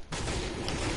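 Gunfire bursts in a live online duos shooter match, a dense volley of pistol-like shots crackling close and loud across the whole moment, starting abruptly after a brief quiet.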